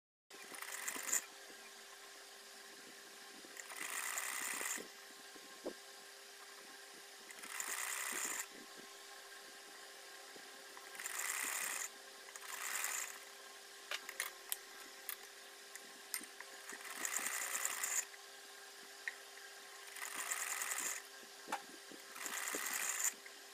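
A sewing machine stitches a lace border onto a printed kurti neckline in repeated bursts of a few seconds each, a close whirring clatter separated by quieter pauses with faint ticks and handling.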